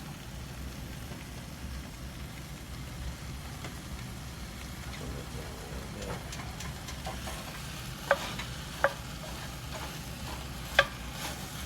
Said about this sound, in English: We're going to throw our ground beef in with our kielbasa. We're going to brown all of that.